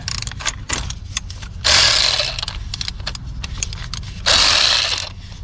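A hand ratchet clicks rapidly in close-up while breaking loose water pump bolts on a 2011-2015 Chevy Cruze 1.4L turbo engine, with two louder grinding bursts of effort between the runs of clicks.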